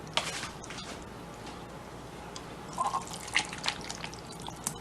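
Sauce drips from a kitchen scoop back into the pot, a few soft, close drips and small liquid splats scattered over a quiet background.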